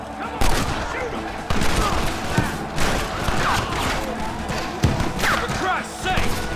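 Rapid gunfire from an Evans repeater rifle in the Western video game Red Dead Redemption, with repeated sharp shots and bursts crackling over a busy battle din, mingled with shouting voices.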